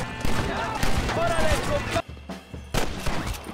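Rapid gunshots crack in a Red Dead video game, loud and dense at first before a brief lull, then more shots, with someone talking over the gunfire.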